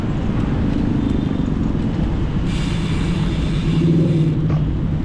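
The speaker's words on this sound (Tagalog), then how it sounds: "Naunahan pa natin yung mga may ingay na motor na yan" Noisy motorcycles roar along a road during a group ride, a steady loud engine rumble with passing traffic swelling midway and no voices.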